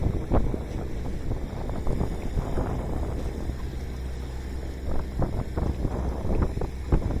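Wind gusts across a lake in Maine, a steady low roar of buffeting over the microphone with faint splashes and knocks, as from a fishing boat, and no talk.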